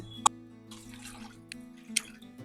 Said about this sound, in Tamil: தண்ணியும் கொஞ்சம் ஆட் பண்ணிக்கிறேன்